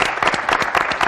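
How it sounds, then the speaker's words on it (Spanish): Studio audience applause on a 1996 Spanish morning television programme, greeting a guest actress and former model; a brief burst of clapping with distinct individual claps, close and fairly loud. "Y este aplauso para ti, Teresa."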